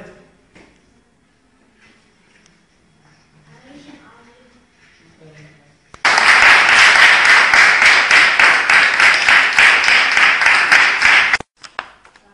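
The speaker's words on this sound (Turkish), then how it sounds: "Alkış sesleri!" Loud, sustained applause from a group of children erupts suddenly after quiet talk, rapid dense clapping lasting several seconds before stopping abruptly, followed by a few stray claps.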